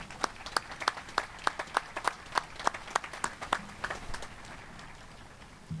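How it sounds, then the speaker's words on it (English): A small crowd at a high school graduation ceremony claps, with sharp distinct claps that thin out and fade after a few seconds. "How about another round of applause?"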